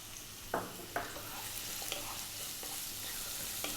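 Onion and carrot sizzle in a hot pan over high heat for Chinese brisket, a soft steady frying hiss broken by a few sharp stirring clinks, quiet and close with no talking.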